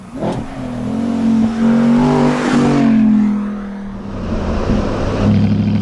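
A car engine revving, built as a sound effect with the Igniter engine plugin, climbs to a loud sustained whine that holds, then dips and settles back to a lower idling rumble.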